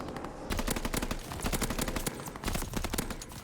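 Rapid gunfire from an NZ-41 rifle in Call of Duty: Vanguard, fast repeated sharp cracks in close bursts running through the whole clip, with brief gaps between bursts; no talk.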